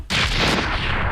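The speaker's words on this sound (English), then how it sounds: "Yay! Explosions!" Explosions in the Sly 2: Band of Thieves video game, a sudden loud blast followed by sustained rumbling booms and crackling debris for about a second.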